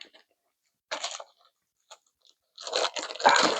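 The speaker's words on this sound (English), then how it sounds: "open up the ketchup packet, and put a little bit of ketchup on some of these fries" Ketchup packet being torn open close up, several short crinkly bursts of plastic separated by silences, the last tearing longer and louder.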